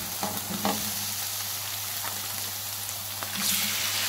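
Chopped tomatoes go into stuffed karela masala frying in a pan, with a steady close sizzle and a few soft stirring knocks throughout.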